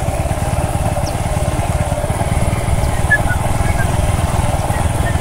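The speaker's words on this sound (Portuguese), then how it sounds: "Mas vamos tentar filmar e ir de moto aqui." A motorcycle rides across a farm with a steady close engine drone and a pulsing low rhythm, while a voice talks over it.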